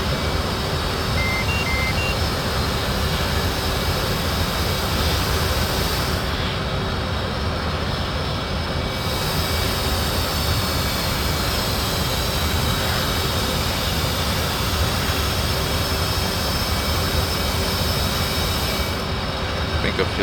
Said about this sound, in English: Right engine's getting shut down.